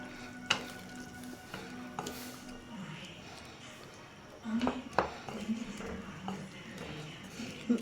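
Bilimbi pachadi cooking in a pan, a soft sizzle and bubbling under a few scattered scrapes and clinks of a spoon stirring, with a person speaking intermittently over it.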